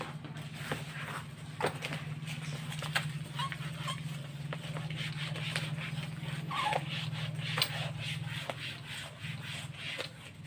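A written problem is wiped off a board in repeated scrubbing strokes, soft and close, over a low steady hum, with irregular rubbing pulses for about ten seconds.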